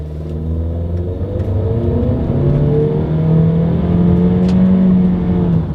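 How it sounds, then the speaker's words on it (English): A 2021 Honda CR-V SUV accelerates up to speed with a rising engine drone that climbs through gear changes, heard loud and steady from inside the cabin with no talking. "let's see how quickly we can get this new 2021 Honda CR-V here up to speed"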